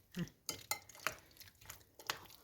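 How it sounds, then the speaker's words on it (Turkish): A spoon scraping and clinking in a bowl as chicken is stirred into its marinade for chicken skewers, several short quiet knocks in an uneven rhythm, with no talking. "Şimdi marinasyonumuzla bu şekilde karıştıralım güzelce."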